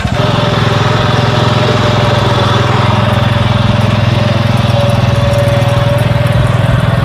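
A 12 HP power tiller's engine runs steadily nearby with a loud, buzzing, chugging drone and a continuous rapid firing rhythm, with no talk over it.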